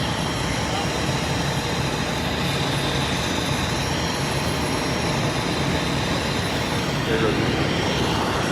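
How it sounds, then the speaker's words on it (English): Helicopter taking off near wildfires in Los Angeles, a steady broad roaring rumble that holds constant throughout, dense and fairly loud. "There's one helicopter that just took off, guys."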